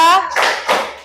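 A classroom icebreaker clapping game, where students clap on a counted call: a short spoken cue is followed by two firm, evenly spaced group claps, close and loud.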